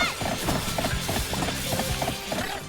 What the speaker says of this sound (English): The sound effect you get for using the Zebra Bananza form is the same as traversing electric lines in Mario Odyssey